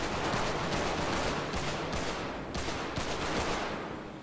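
Heavy, sustained gunfire in GTA 5 roleplay, a dense barrage of overlapping shots with brief breaks, loud and continuous for several seconds.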